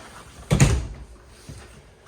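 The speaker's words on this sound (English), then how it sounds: "we can come out of the door that's to the main part of the living room from the bedroom, which does have a closable door" Bedroom door of a 2024 Cruiser RV Stryker STG3313 toy hauler opens with a single close knock and soft rattle, followed by a fainter thump as it shuts, in a quiet room.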